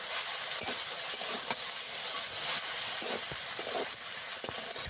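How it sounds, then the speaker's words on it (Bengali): Spices and greens sautéing in a pan, a continuous steamy sizzle with scattered sharp clicks of stirring against the pan, close and moderately loud without talk. "এবার সব মশলা একসঙ্গে কিছুক্ষণ কষিয়ে নেব।"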